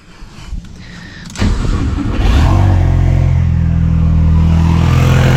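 A rear-wheel-drive Fusion car engine cranks briefly, then catches and settles into a loud, rumbling idle that holds steady and close.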